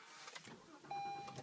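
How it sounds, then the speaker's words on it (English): A 2013 Acura RDX comes to life by push-button start: a short, close mechanical turnover and catch, followed by a steady electronic chime tone holding to the end. "As you noticed when I started that up, that this car is a push start"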